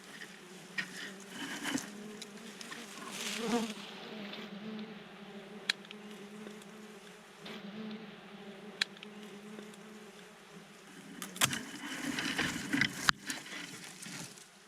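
Bees buzz around an old honey nest, a low steady drone close by with occasional louder passes and faint ticks and taps scattered through.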